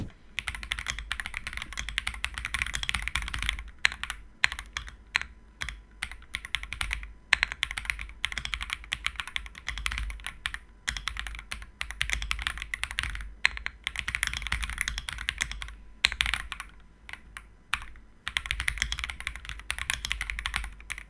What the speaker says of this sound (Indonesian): kita sama-sama dengar suara typing testnya kayak gini